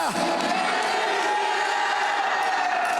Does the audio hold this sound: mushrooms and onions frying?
no